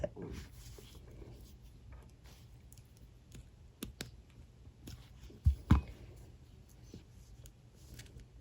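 Wire cutters snipping wire while a beaded ring is wire-wrapped, heard as a couple of sharp, close clicks against quiet handling noise, with a few softer taps and no speech.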